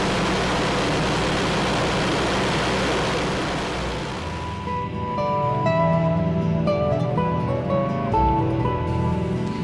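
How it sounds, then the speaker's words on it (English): A diesel-engined combine harvester gives off a broad, heavy mechanical rush that gives way to a droning engine hum with tonal whine, loud and continuous with no talk. "There's an awful lot going on inside a combine harvester."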